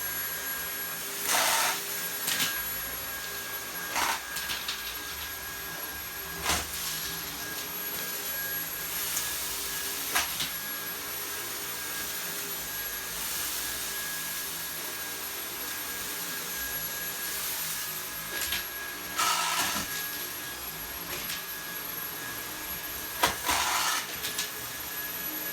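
A Dyson V8 cordless vacuum runs at max power sucking up porridge and cookies, a loud steady high-pitched motor whine with occasional rattling bursts as debris is pulled in, continuous throughout without speech.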